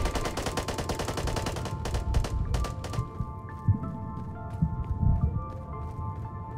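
Gunfire in the video game Task Force: a rapid automatic burst of close, loud shots, followed by a few scattered single shots and muffled impacts over a low background.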